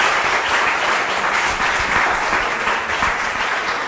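Applause from an audience at the close of a course, a steady dense wash of clapping that fills the room for the whole stretch without pause.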